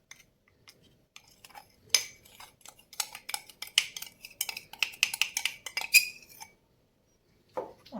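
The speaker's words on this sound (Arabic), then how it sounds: "هلا بدي اقلبهم مع بعضهم" A spoon clinks and scrapes against a bowl as sugar, starch and cocoa for a coffee-bean dessert are stirred together, a busy run of close metallic taps and scrapes that stops and then returns briefly.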